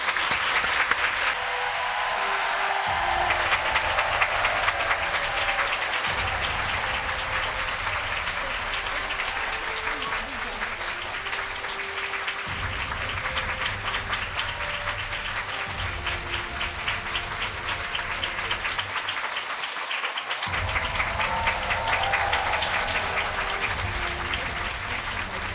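A lecture audience claps steadily and densely for the whole stretch, a sustained round of applause heard from within the hall.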